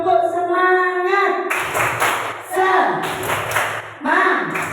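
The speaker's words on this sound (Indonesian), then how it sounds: "Mari ikuti Bu Guru untuk tepuk semangat anak-anak." A teacher leads children in the tepuk semangat clap routine, patterned rhythmic hand clapping in bursts mixed with a sung or chanted voice, fairly close and clear.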